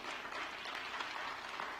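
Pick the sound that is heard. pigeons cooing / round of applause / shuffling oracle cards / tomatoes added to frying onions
round of applause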